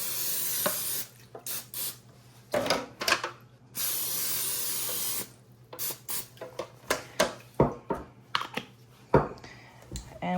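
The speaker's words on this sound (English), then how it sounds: "I'm gonna go ahead and spray them with some cooking spray" Cooking spray hisses from a can into two loaf pans in a series of short bursts, one long spray followed by several quick spurts and small clicks and knocks between them, close and fairly loud.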